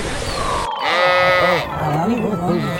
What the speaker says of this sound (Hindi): वो देखिए बकरा, वो तो दुम्बा है।